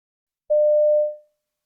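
A single steady telephone tone sounds for about half a second as a hospital call is placed back, clear and alone before fading out.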